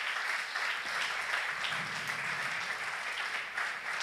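A church congregation applauds steadily, a dense, even wash of many hands clapping that carries on for several seconds, moderately distant and heard alone.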